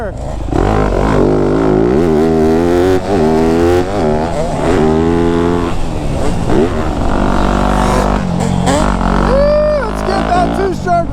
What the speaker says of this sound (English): Let's get that two-stroke ripping, baby.